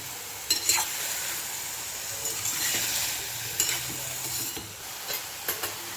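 Zucchini sautéing in a pan as it is stirred, a soft continuous sizzle broken by repeated scrapes and taps of the spoon against the pan, close and fairly quiet, with no talking.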